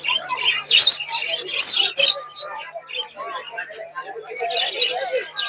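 Small cage birds chirp and tweet in dense overlapping bursts at a busy poultry, pigeon and bird market in Madhabdi, Narsingdi, with a low hum running beneath.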